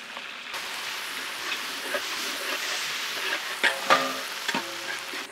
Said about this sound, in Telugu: అల్లం వెల్లుల్లి పేస్ట్ నూనెలో చక్కగా వేగాక